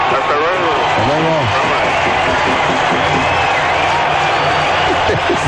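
Applause with cheering and whoops fills a Spanish-language radio studio broadcast, dense and steady throughout, with voices rising over it.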